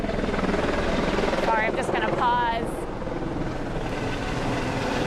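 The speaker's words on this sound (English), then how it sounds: "We have a helicopter taking off right now." A helicopter lifts off from a hospital roof, its steady rotor roar filling the whole stretch at close range while a person speaks briefly over it.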